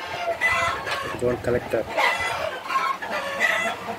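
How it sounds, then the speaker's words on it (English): A hen clucks loudly and insistently after laying an egg, a rapid repeated cackling close by, with a person speaking briefly over it. "the serenade behind is probably a hen has laid an egg."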